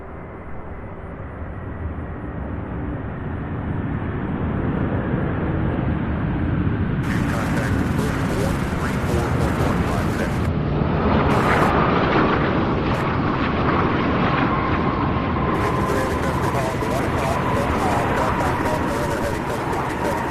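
A plane landing at Louisville International Airport, with a loud sustained roar of jet engine and rushing air that swells and holds, broken by crackling bursts as the aircraft arrives; a voice talks over it.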